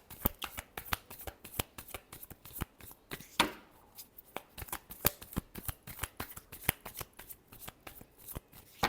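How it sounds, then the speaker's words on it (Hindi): Tarot cards being shuffled by hand: a fast, steady run of crisp riffling clicks and slaps, close and fairly quiet, with one longer sweeping riffle partway through. "Last shuffle."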